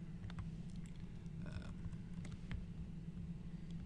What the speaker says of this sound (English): So if you type in Lextutor